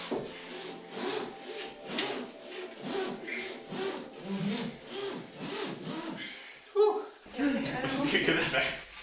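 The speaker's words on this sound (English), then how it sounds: "tuck the wire underneath the glass, and then you just kind of want to back and forth" Wire drawn back and forth beneath the rear glass of a 1996–2000 Honda Civic during removal, a rhythmic rasping rub repeating at a steady pace, with someone talking over it.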